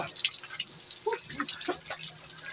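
Water running continuously from a tap that will not shut off, a steady low hiss with faint splashy detail, fairly quiet and without talk.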